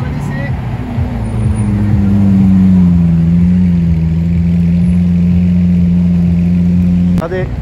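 A deep Lamborghini Aventador engine idles loudly nearby on a Paris street, its low rumble swelling and then easing off before it cuts away near the end.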